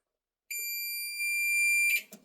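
A multimeter's continuity beep sounds while testing the timing motor of a Speed Queen electric dryer, one steady high electronic tone held about a second and a half, followed by a brief rustle.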